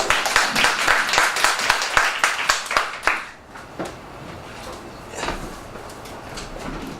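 Audience clapping for a presenter at a university talk, a loud burst of close, distinct hand claps that fades out after about three seconds into quieter room noise.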